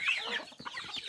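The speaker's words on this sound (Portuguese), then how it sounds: "E tem galinha espalhada pra todo lado aqui, ó." Chickens scattered across a small farm in early morning cluck in a steady series of short notes, with a higher squawk at the start, moderately close and faint.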